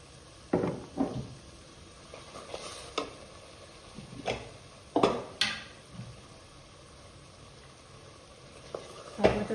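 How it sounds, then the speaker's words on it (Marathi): Spice paste sautéing in oil for a village-style chicken curry, with low frying crackle and a run of irregular spatula scrapes and clinks against the pan, moderately close and without talk. "बघा वाटण चांगलं त्याला चांगलं तेल सुटेपर्यंत त्या वाटणाला आपण परतून घेणार आहोत."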